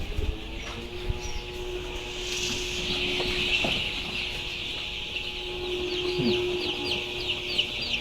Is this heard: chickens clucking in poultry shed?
yes